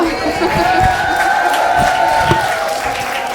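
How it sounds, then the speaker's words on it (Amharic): Warm applause and cheering from guests at an Ethiopian wedding reception in Seattle, a steady crowd roar with clapping and scattered whoops over a sustained hall tone, loud and continuous throughout. "ሞቅ ያለ ጭብጨባ።"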